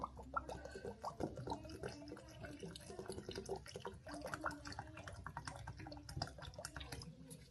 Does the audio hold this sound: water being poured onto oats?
yes